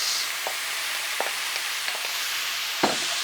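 Peppers and onions frying in a pan for beef with green pepper and black bean sauce, a steady soft sizzle with a few light stirring clicks and scrapes, no talking.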